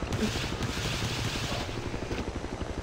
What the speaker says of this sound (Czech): s tím se hrozně blbě střílí s tím vrtulníkem